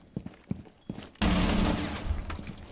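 Gunfire in Rainbow Six Siege, fired from a window: a few faint separate pops, then a sudden loud sustained volley of rapid shots.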